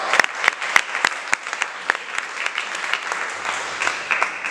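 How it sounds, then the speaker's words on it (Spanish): A church congregation claps together during a service, a dense wash of applause with sharp individual claps standing out, sustained throughout in a reverberant room. "¿Cuánto le dan palmas al Señor?"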